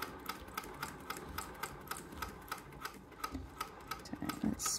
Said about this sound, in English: I'm going to sew string on top of string